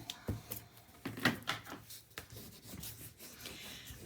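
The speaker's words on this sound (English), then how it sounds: "always burnish your tape really, really well" Tape being burnished onto a handmade mini album, heard as soft, close rubbing strokes in an irregular rhythm with a few sharper scrapes, no voices over it.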